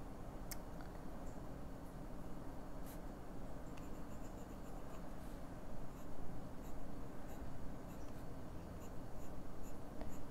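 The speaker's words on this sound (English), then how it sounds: "It just glides over the paper like that." A broad-nib Opus 88 Mini Pocket fountain pen writing on paper, a soft continuous scratching and gliding with faint ticks of strokes, close and quiet, without talk.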